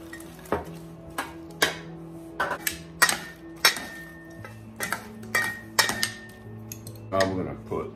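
Honey walnut shrimp is served onto plates, with a run of about a dozen sharp ceramic and metal clinks and clatters at an irregular pace, close and distinct, over a faint background hum.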